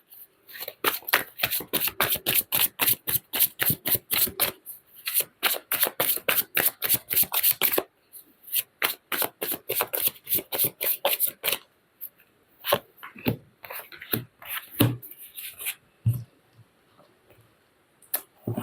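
Tarot card decks handled and stacked on a table give quick repeated riffling snaps in dense bursts, then sparser shuffles and taps, close and clear with no talking.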